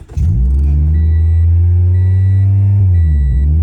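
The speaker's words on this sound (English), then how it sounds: "I'm gonna start the car" A Toyota Yaris engine, refitted with its factory intake manifold, cranks and catches, then settles into a steady, fairly quiet idle with a low, even hum that holds close and constant throughout.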